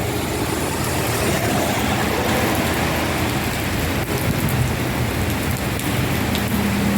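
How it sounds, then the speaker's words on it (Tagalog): Heavy typhoon rain pours down steadily and loudly in Hong Kong, a dense, unbroken hiss and patter close by with no voices. "Lumalakas ang ulan."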